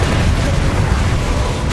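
Incendio fire spell cast in Hogwarts Legacy: a loud, dense rumbling burst of fiery blast noise that holds steady and close for under two seconds, with no talk over it.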